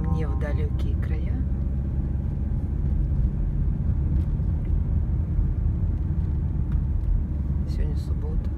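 A car driving along the road, heard as a constant low engine and tyre rumble from inside, with people talking briefly near the start and again toward the end.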